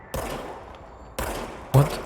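Three sharp gunshots from a gun in the video game Control, each a loud, close crack with a short decaying tail, spaced about a second and then half a second apart.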